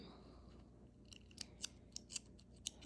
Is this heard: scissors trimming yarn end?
yes